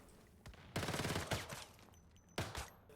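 The Little Jaws gun fires in the video game Once Human, in several rapid bursts of automatic shots with short pauses between them.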